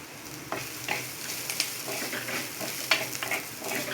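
Chilies sizzle in hot oil with garlic paste in a pan for a broccoli and peas curry, a steady crackle broken by sharp stirring scrapes and spatters, close and clear with no talk.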